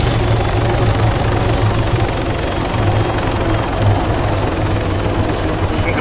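Helicopter in the ARMA 3 military game, a steady loud rotor thump with a low pulsing beat and engine roar filling the whole stretch, close and continuous with no talk.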